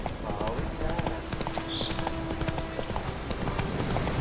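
Horse hooves clop in a steady galloping rhythm in The Witcher 3 video game, a dense and constant patter heard close and loud.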